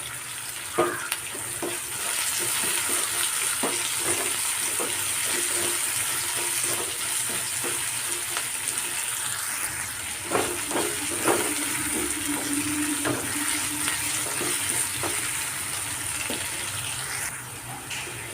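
Curry leaves sizzle in hot oil in a pan during cooking of a tapioca and egg dish, with a loud, continuous frying hiss and a few sharper crackles and stirring knocks, close up.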